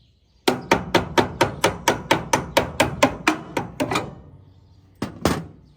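A hammer strikes a part about fifteen times in a fast, even run during repair work on a John Deere 24T baler. The blows are close and sharp, and two more strikes follow after a short pause.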